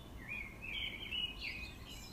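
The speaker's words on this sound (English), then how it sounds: "I remember hearing the birds." Birds sing outdoors beside a street near a large tree, thin high chirps and warbling phrases drifting over a low hum of background rumble, faint and fairly distant, with no one talking.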